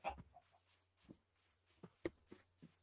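Chickens clucking in the Minecraft video game, a string of short, soft, separate clucks in an irregular rhythm over a faint low hum, with no talking.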